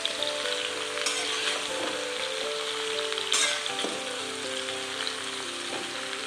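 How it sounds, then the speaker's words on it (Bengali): Mixed vegetables frying in a hot pan, a loud continuous sizzle with crackling spatters and occasional stirring scrapes, close and steady throughout with no talking. "সব তরকারিগুলো আমি দিয়ে দিলাম।"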